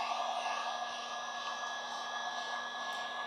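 A heat gun blows hot air over vinyl on an ATV seat, a close, steady, even whooshing hum that never changes for the whole stretch, with no talking.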